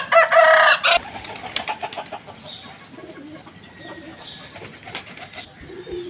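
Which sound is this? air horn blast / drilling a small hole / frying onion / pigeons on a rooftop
pigeons on a rooftop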